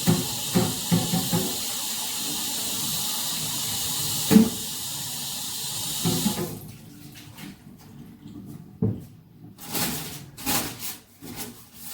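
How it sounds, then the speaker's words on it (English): Tap water runs steadily into a graduated cylinder in a lab, a continuous hiss that breaks into uneven splashing and sloshing as the glassware is rinsed and swirled. "we're going to rinse out our graduated cylinder to get it ready to use for our third reagent"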